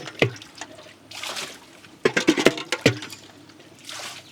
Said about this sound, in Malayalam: അപ്പോൾ നമ്മളിങ്ങനെ മൊത്തം വെള്ളം പുറത്തേക്ക് ബക്കറ്റ് വെച്ച് തന്നെ കോരി കളയണേ.